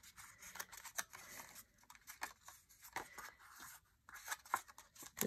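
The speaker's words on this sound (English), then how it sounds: "So you're going to accordion fold it." Scored paper cardstock being accordion folded back and forth, giving a series of crisp creases, rustles and scraping rubs in irregular bursts, close and fairly quiet, with no talking.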